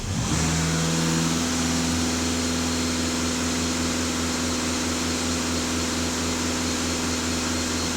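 A Volkswagen Passat B8 2.0 TDI diesel, running with a diesel particulate filter fault and a leaking intake, holds a steady mid-pitched drone at raised revs, loud and unbroken throughout with no one talking.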